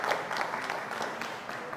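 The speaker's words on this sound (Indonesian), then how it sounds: "Kita beri tepuk tangan Bapak Ibu semua." Audience applause at a software soft-launch event, a brief, faint patter of many hands clapping, heard at a distance.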